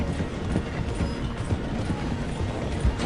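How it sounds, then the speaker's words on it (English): A train in the video game Red Dead Redemption 2 slowing through a station: a steady rumbling, clattering roll with a rhythmic thumping beat, heard close alongside, with horse hooves mixed in. "The train is slowing down to go through the station."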